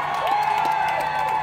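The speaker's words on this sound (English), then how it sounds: "I want the whole crowd to make a give a warm welcome to the Charismatic Dance Troupe. Make some noise." A crowd at a family day event cheers and whoops for a dance troupe, a dense wash of shouts with a sustained whistle-like whoop rising above it, fairly loud and close.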